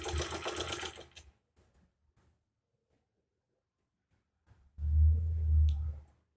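A sewing machine stitching kurti fabric whirs in two short bursts, a close, loud opening run that stops within a second, quiet handling in between, then a deeper humming run of over a second near the end.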